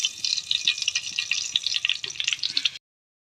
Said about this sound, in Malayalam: നമുക്ക് കടുക് ഇട്ട് കൊടുക്കാം.